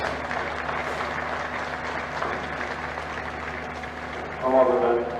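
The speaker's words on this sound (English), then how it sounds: "so I'll give a round of applause to Mid Kerry" An audience at the 2020 Kerry county senior football final applauds the Mid Kerry team, a steady patter of clapping over a low hum, with a voice briefly rising near the end.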